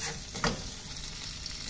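Aromatics for a mussel dish sauté in a pan, a steady close sizzle with a brief stirring scrape near the start, continuous and without talk.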